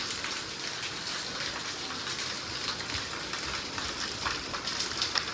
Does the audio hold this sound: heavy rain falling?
yes